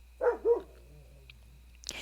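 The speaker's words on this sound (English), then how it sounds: "My dog just barked." A dog gives two quick, close barks in a row, then the room goes nearly quiet apart from a faint hum, with a brief soft noise at the very end.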